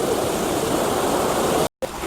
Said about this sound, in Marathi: फ्लो आहे पाण्याचा